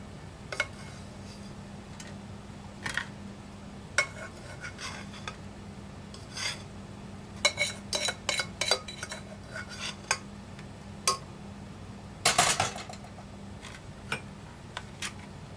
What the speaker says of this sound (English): I'm going to take this and spoon it into my pans here